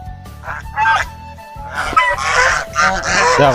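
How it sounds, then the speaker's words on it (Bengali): Ducks below a tree quack loudly in harsh, repeated bursts that overlap into a noisy chorus, close and dominant over a low background hum. "নিচে হাঁস কতগুলো চিল্লানি শুরু করে"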